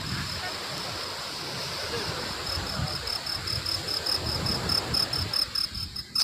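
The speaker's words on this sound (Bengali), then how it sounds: "দেখো জলের সাউন্ড নিশ্চয়ই তোমরা শুনতে পাচ্ছ" Morning sea waves washing onto a beach, a steady broad wash of surf with faint insect-like chirping and some wind, fairly close, swelling slightly toward the end.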